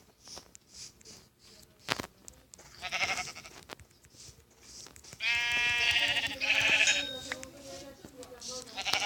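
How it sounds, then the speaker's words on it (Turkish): Sheep bleat in wavering, nasal cries, loudest near the middle, over a restless background with a voice speaking now and then. "Aha koyun buldum."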